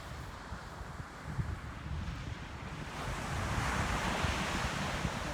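Ocean surf rolls onto the beach at sunrise on the Outer Banks, a steady broadband wash of breaking waves that swells louder midway, with some wind buffeting the microphone and no talking.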